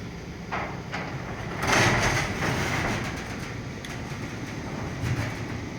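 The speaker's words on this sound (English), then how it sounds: "Greased up door. Door runs very smoothly." Greased garage door rolling smoothly on nylon steel rollers, a steady near rumble with a low rattling roll that swells briefly and then continues evenly with no talk.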